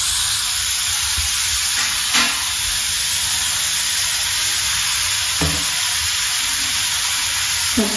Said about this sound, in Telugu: ఆనియన్స్ ఇలా బాగా హీట్ అవ్వాలండి.